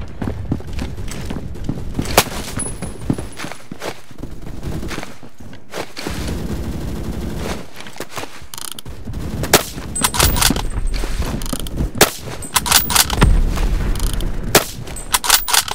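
Gunfire in the Roblox shooter Phantom Forces on a subway station map: repeated sharp shots and rapid bursts mixed with footsteps and metallic clangs. The firing is loud and close, with short pauses between the exchanges.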